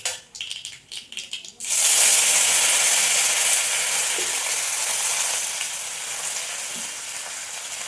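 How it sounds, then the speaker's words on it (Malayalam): Curry leaves drop into hot oil in a pan on the stove for a chutney and erupt into a loud, steady sizzle after a few brief stirring clatters, the frying hiss holding strong and close before easing slightly. "ഇത്ര എണ്ണ മൂത്ത് വരുമ്പോഴത്തേക്ക് നമുക്ക് സ്റ്റവ് ഓഫ് ചെയ്യാം ഇതിലേക്ക് കുറച്ച് കറിവേപ്പില ഇട്ടു"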